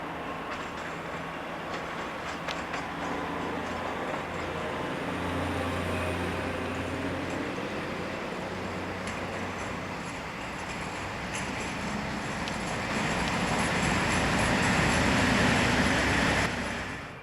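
A loaded steel freight train rolls through a rail junction near Scunthorpe, a steady rumble with rhythmic wheel clatter and squeal that builds louder toward the end, with no talk over it.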